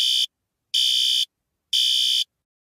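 Fire alarm sound effect played from a baby's mobile: three loud, shrill electronic beeps in an even on-off pattern, each lasting about half a second with short silent gaps between them.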